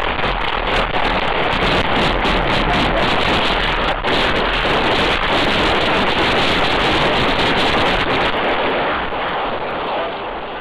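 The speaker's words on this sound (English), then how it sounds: "That is the sound of the gunfire outside of the Boulevard Bar on Northland Boulevard" Gunfire outside a bar on Northland Boulevard in Springdale, captured by a surveillance camera around 12:45 in the morning: sharp cracks buried in constant roaring wind-like noise, distant and hard to separate.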